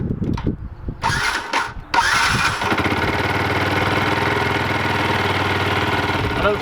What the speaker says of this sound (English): I'm going to try and crank it a few times without starting it,